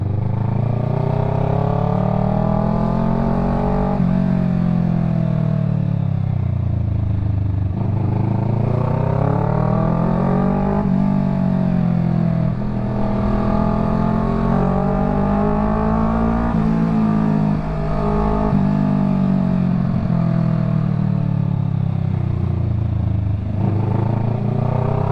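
A loud motorcycle engine close by, rising and falling in pitch as it revs and slows in a slow repeating pattern over a long stretch of traffic noise.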